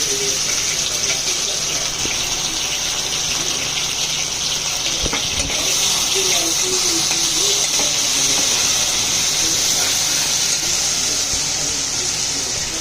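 Ginger garlic paste sizzling with fried onions in a pan, a loud steady hiss and gush that runs throughout, with a few faint clicks and thuds of stirring underneath.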